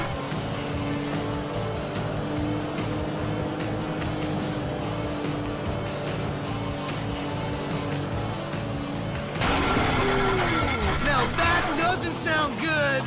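A vehicle engine in the video game GTA 5 hums with a steady, slightly wavering pitch, then swells into higher, sweeping revs near the end, with tire noise mixed in.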